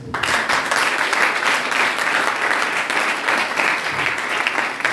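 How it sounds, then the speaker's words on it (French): An audience claps steadily and loudly for several seconds, a dense wash of applause with no break. "Acclamons pour les garçons."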